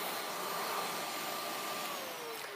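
A Riccar upright vacuum cleaner runs steadily, a loud, even motor whine and airflow rush that holds without pause and with no talking.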